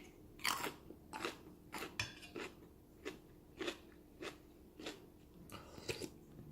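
Crunchy bites of fresh cucumber eaten alongside soup and rice, about ten crisp close-up crunches in an uneven chewing rhythm, quiet and with no talking.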